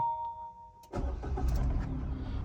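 A Suzuki S-Presso AGS hatchback is started after being driven through floodwater: a dashboard chime tone gives way to the starter cranking, and the engine catches and settles into a steady idle, heard close and clear.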